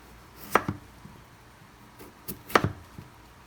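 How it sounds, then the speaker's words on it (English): A knife slices through catfish on a cutting board with two crisp chops about two seconds apart, close and clear in a quiet kitchen. "I'm going to slice this"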